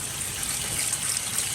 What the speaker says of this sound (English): rinsing with cool water is very, very helpful